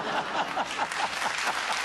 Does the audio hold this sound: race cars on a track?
no